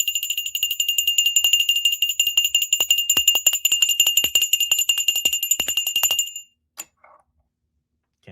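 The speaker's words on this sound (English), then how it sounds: "so I have to ring the little bell" A small handheld bell rings rapidly and continuously at the stock market open, a bright, loud, close jangle lasting about six seconds before stopping, followed by a single faint clink.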